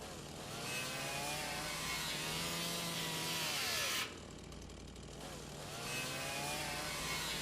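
A game character saws wood aboard a ship in 30 Days on Ship: continuous gritty rasping strokes over a low mechanical hum, briefly dropping out around the middle before resuming, with no speech.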